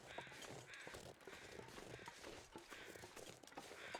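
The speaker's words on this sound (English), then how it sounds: "Noisy crows." Crows caw repeatedly in the survival game The Long Dark, several harsh calls spaced across a quiet outdoor ambience, fairly close and alone without talk.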